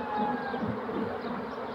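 Honey bees buzzing around an opened hive just after smoke has been puffed into it, a steady dense hum with no gaps, moderately loud and close throughout.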